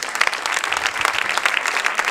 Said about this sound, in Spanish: Démosle un fuerte aplauso de alabanza al Señor.